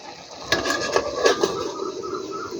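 A metal lid settles onto a cooking pot of lentils and amaranth greens with a few close clinks and rattles, then quiet bubbling underneath.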